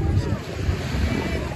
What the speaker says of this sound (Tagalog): Mahangin po siya mga kapitbahay.